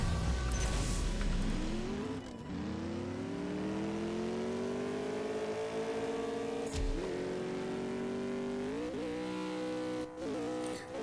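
A supercar engine in the CSR2 racing video game revs hard and climbs steadily through the gears, with sharp shift breaks between long rising pulls. It is loud and continuous, with no talking.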